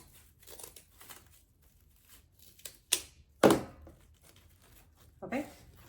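Scissors cutting ribbon ends for a 4th of July patriotic wreath: a few sharp snips and a rustling crinkle of ribbon, close and quiet, with a brief loud burst partway through.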